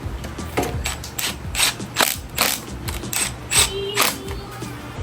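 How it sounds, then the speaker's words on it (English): Close, steady ratcheting clicks and mechanical rattling while a battery tender adapter is fitted to a 2019 Suzuki GSXR-750 motorcycle, with sharper snaps scattered throughout and no talking. "I'm gonna go ahead and install this battery tender adapter so we can charge the battery"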